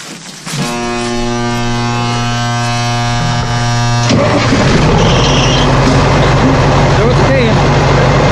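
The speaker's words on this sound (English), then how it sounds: "So it'll take a while for the air alert noise to quit" A truck engine cranks and catches, then idles with a deep rumble while a steady multi-tone air pressure alert buzzer sounds loudly for several seconds before cutting off under the running engine.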